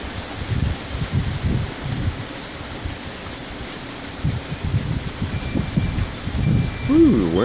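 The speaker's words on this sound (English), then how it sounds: "Ooh, wind." Gusts of wind buffet the microphone during a heavy tropical rain in Indiana, giving a loud, steady low rumble with rising and falling surges under a constant bed of rain hiss. A voice is briefly heard near the end.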